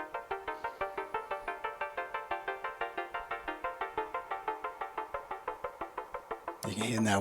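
A Monome Norns Shield running the Awake Rings app plays a fast, steady stream of bright plucked synth notes with shifting pitch, an FM-like metallic tone, before a louder burst of sound at the end.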